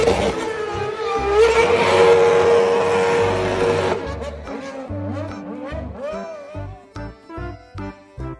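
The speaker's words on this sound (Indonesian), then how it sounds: "Mobil balap." A race car engine roars loudly and steadily, then shifts into revving bursts and gear changes with rising, falling pitch toward the end.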